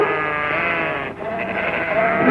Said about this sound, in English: I was driving my sheep and she started chasing them.